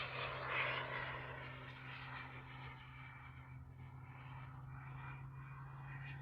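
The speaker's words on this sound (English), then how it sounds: "This airplane just flies so well, shows up so well, so smooth." A giant radio-controlled T-38 Talon scale model jet flies past in a steady, fairly distant turbine roar with a low hum throughout, gently swelling and fading as it passes, with no voices.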